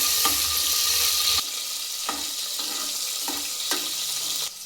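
Onions sauté in oil in a pressure cooker, a broad steady frying hiss marked by a few distinct scrapes and knocks of a spoon stirring, the sizzle dropping somewhat after the first stroke.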